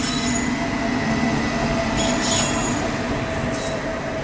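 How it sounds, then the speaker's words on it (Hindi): The Mahakaushal Express pulls onto a station loop line, its wheels squealing steadily over a continuous, close heavy rail rumble, with brief brighter screeches partway through. "बगल से ये आ गई महाकौशल एक्सप्रेस। इस ट्रेन का भी यहाँ पर ऑफिशियल हॉल्ट है, इसलिए इसको लूप लाइन पर यहाँ पर रोका जा रहा है।"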